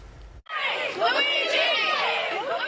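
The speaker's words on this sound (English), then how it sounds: "A crowd of supporters, many angry at the healthcare system, hoping to catch a glimpse of accused killer Luigi Mangione" Supporters crowd outside a Lower Manhattan courthouse, shouting and cheering in an overlapping roar of many voices, loud and sustained after a brief quiet start.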